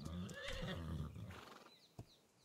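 A horse in the game ARK lets out a close, loud whinnying neigh, followed by a soft clip-clop of hooves and a single thud at the end.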